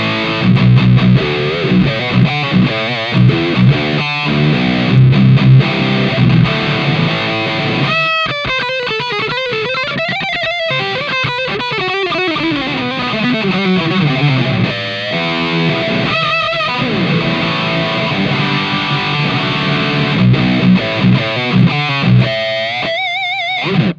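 An electric guitar played through a distortion pedal drives heavy, continuous metal riffs and sliding lead lines, loud and dense from start to finish with no talking.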